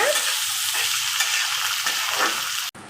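Onions and green chillies fry to golden brown in a pan for tomato curry, a steady dense sizzle close up, then cutting off abruptly near the end.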